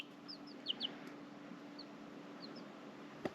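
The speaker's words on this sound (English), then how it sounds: "Here's a couple chicks that have hatched out" Newly hatched chicks chirp indoors in a handful of short, high peeps scattered across a quiet room, with a steady low hum underneath.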